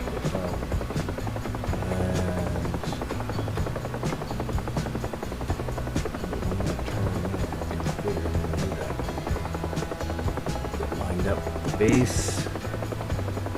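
Helicopter rotor in the DCS flight simulator during a rescue flight near Elbrus, a steady chopping drone with buzzing throughout, loud and continuous, while someone briefly talks over it.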